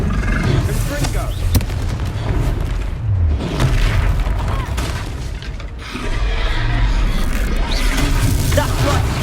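Confringo fire spell exploding in Hogwarts Legacy gameplay: heavy booming blasts with rumbling roar, dense and loud throughout, mixed with game music, effects and character voices.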